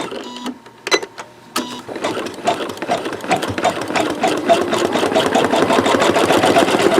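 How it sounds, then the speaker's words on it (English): A Janome MC11000se embroidery machine stitches twill ribbon with a steady, rapid mechanical chatter that starts with a few separate clicks and thumps, then settles into continuous close-up whirring that holds to the end. "This is going to embroider beautifully."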